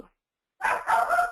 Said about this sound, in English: Excuse my dog making noise here.